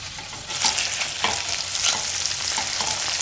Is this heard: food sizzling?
yes